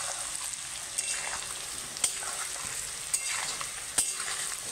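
Potatoes frying in oil with Kashmiri chilli powder and turmeric, a steady bright sizzle punctuated by a few spatula clacks against the pan, with no speech.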